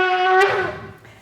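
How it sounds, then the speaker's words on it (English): A single shofar tekiah blast at a preschool Rosh Hashanah service: one sustained, brassy horn tone that swells and then fades out within about a second. "The first one is tekiah. Sounds like this."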